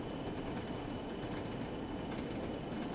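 A DMU train rolls along the Northern Trans Pennine line toward Manchester in Train Sim World 3, a steady rumbling drone with faint rhythmic clickety-clack of wheels on rail joints.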